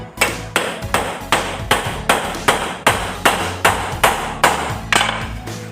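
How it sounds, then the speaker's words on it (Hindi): A hammer striking a thin metal rod to drive out a part of an umbrella-making machine, about a dozen sharp ringing blows at an even, steady rhythm, loud and close with no talking. "तो दोस्तों देखो, मैं इस तरीके से ठोक रहा हूँ इसको।"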